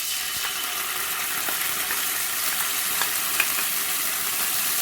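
Garlic fries in oil in a pan with a continuous, bright crackling sizzle, broken by a few faint clicks of stirring, close up and with no talking.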